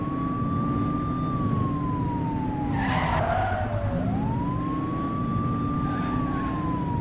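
A police car siren wails in a video game set in a city, its tone sweeping down and back up as tires skid briefly in the middle, loud and close with no talking.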